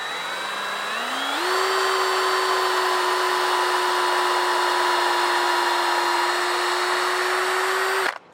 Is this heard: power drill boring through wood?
yes